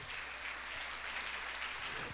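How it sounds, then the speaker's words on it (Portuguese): Congregation applauding the Lord during a church service, a soft, even wash of clapping heard from a distance, steady and low in level with no speech on top. "Pode dar outra salva de palmas para o Senhor."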